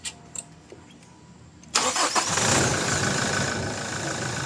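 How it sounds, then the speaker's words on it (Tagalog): A Toyota Innova engine being restarted: after a few faint clicks, the starter cranks and the engine fires abruptly, then settles into a loud, steady idle nearby. "pinaswitch ko nga itong makina niya, tapos pina-start ko ulit"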